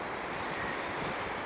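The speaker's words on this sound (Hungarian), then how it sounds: "Ja, víz felől fúj a szél." Steady wind off the water buffets the microphone outdoors in Norway, a continuous broadband rush with no voices.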